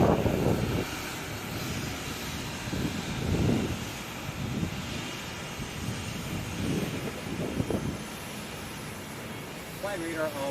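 Airliner engines roar from a distance on the runway at Sky Harbor International Airport, a broad steady rumble with wind buffeting the microphone and bursts of nearby talk over it.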